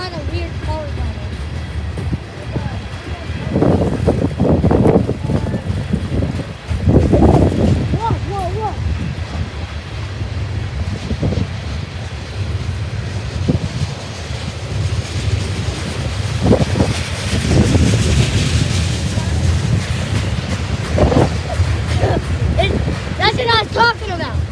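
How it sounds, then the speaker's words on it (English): Strong gusty wind buffets the microphone trackside, low rumbling roars that swell and drop over a passing Norfolk Southern train, with people talking at intervals. "It is so windy."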